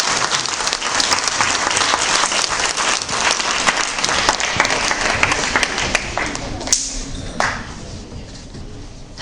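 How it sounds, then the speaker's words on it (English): Audience applause fills a school farewell event for a principal, dense steady clapping from a large crowd that holds strong for most of the stretch, then thins and fades near the end. "Sir needs a bigger round of applause."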